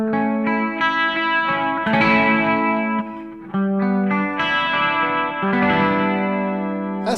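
Electric guitar plays chords and single notes through a NUX MG-101's Deluxe Reverb amp model with a clean, shimmering tone, lush with effect, ringing out loudly with a brief pause midway.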